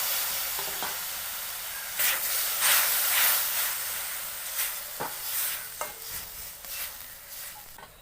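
Ground cumin, red chili and turmeric fry in oil with a splash of water in a pan, giving a hissing sizzle with bursts of stirring and scraping that swell and fade.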